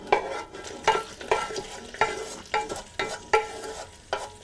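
Browned pork pieces go back into a skillet with reduced wine, producing a rhythmic series of wet scraping stirs and sizzling bursts, roughly nine strokes in quick succession, close and fairly loud.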